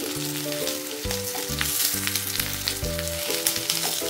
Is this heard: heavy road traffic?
no